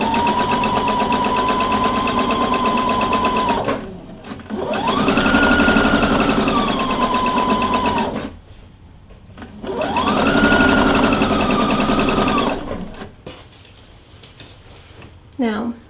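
A domestic sewing machine set to a 2.5 stitch length sews a 5/8-inch seam in fabric for shorts, whirring steadily in two long runs with short pauses between them, close and fairly loud.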